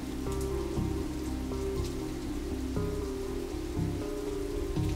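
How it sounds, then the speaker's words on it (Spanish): Steady rain patters hard and continuously during a furious storm, loud and unbroken, with a low repeating tonal pattern underneath and no talking. "De pronto, inesperadamente, comenzó a llover de nuevo y esta vez era tanta la furia de la tormenta"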